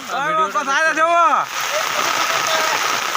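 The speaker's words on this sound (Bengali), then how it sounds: "নদীর রকম জল বইছে" Floodwater runs like a river along a village road in Sonaijuri, a steady rushing wash of water that continues after a voice speaks over the first half.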